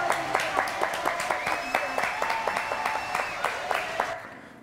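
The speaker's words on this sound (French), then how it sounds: "Applaudissements s'il vous plaît." Audience applause at the end of a live French variety show, with dense crowd clapping and distinct sharp claps standing out rhythmically, fading out at the close.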